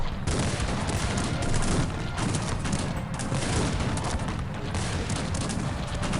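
Dense musket volleys crackle without pause in a Cossacks 3 battle, a continuous loud fusillade of overlapping shots with occasional heavier booms, no voices.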